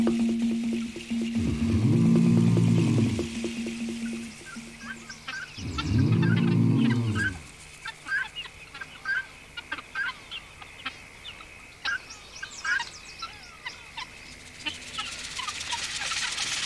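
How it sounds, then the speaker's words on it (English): Guinea fowl give alarm calls in the African wild, with two loud harsh bursts early on followed by a long run of rapid, repeated clucking calls at a distance. "The guinea fowl react without knowing what or where the danger is."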